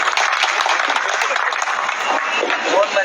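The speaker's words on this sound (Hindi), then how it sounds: "बाबा साहब के लिए एक बार तालियां बजा दीजिए" An audience at a poetry event claps in a sustained, busy burst of applause from a crowd, steady and fairly loud from start to finish.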